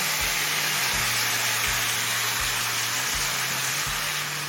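Matar dal frying in a pan over the flame: a steady, close, broadband sizzle with faint low thumps, as of stirring, and no talk.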